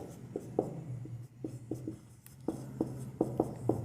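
A pen or chalk scratches out handwritten vector cross-product notes in short, quiet strokes, irregular bursts with brief pauses, heard close and alone without talk.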